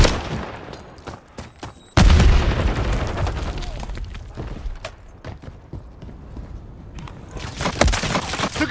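A Semtex grenade in a Call of Duty Domination match goes off as a sudden, heavy boom about two seconds in. Scattered gunshots and rumbling follow for several seconds, with faint talk mixed in.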